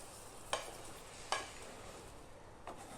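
Chicken curry cooked with cow's milk being stirred in a pot, a soft steady simmer broken by a few sharp scrapes of the spoon against the pan, spaced about a second apart.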